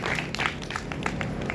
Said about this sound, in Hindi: इसके लिए एक बार तालियां आप लोग बजा दीजिए